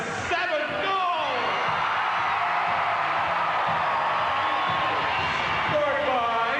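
Hockey crowd at a Tri-City Americans junior game roaring and whooping steadily after a goal, a dense sustained wall of cheering with shouts rising above it throughout.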